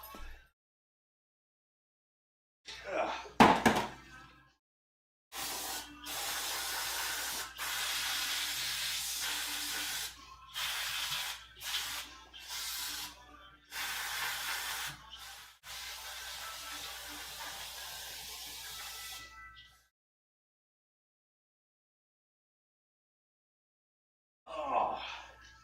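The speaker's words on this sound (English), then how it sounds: "this is the stinky, stinky brake cleaner" Brake cleaner sprayed from an aerosol can in a series of loud, close hissing bursts of varied length, with brief pauses between them and a short sound before and after.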